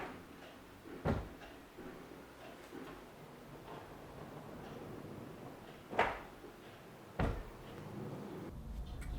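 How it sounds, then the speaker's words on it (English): Soft-close wooden workbench drawers gliding on guide rails, three muted thuds spaced a few seconds apart as the drawers settle shut, over a quiet room hiss. "This gives you these beautiful, gently running, always fully closing drawers."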